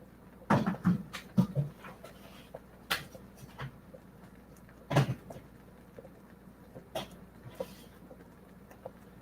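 Dogs panting indoors, with short bursts of breathy huffs and snuffles close by, scattered irregularly along with a few faint household knocks.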